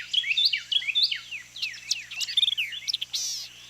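Carolina wrens and white-eyed vireos sing in the Big Cypress Swamp, a busy run of clear, rapid chirps and whistled phrases close by over a quiet background, with no talking.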